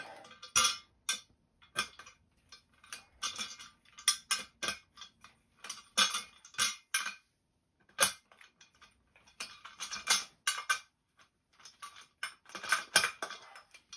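Plastic caster wheels being pushed and snapped into the chrome base of a True Innovations leather manager chair, a series of short sharp clicks and knocks in irregular bursts, close and fairly loud with brief quiet gaps.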